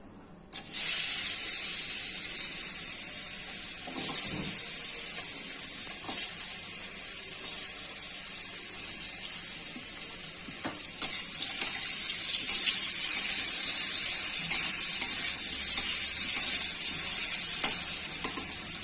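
Washed, chopped sweet pumpkin hitting a hot pan tempered with bay leaf and nigella seeds, a loud bright sizzle that holds steady with scraping stirs and brief knocks throughout.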